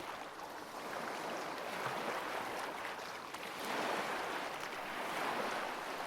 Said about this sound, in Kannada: ತಕ್ಷಣ ನಿಮ್ಮ ಗಮನವನ್ನು ಸಮುದ್ರದ ಅಲೆಗಳ ಶಬ್ದದ ಮೇಲೆ ಕೇಂದ್ರೀಕರಿಸಿ